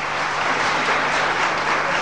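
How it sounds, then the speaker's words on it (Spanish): Audience applause for a witness at a staged wedding show, a dense, steady wash of clapping that fills the whole moment with no voices over it. "El aplauso grande para Emilia."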